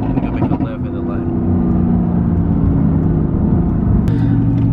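Mercedes-Benz AMG GT S with over 700 horsepower heard from inside, a loud deep engine rumble rising steadily under acceleration, droning continuously with a brief sharp noise near the end.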